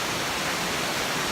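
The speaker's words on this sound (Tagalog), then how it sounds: "Nakarating na tayo sa Mother Falls." Mother Falls roars as a steady, dense rush of falling water, a close and even wash of noise with no voices heard.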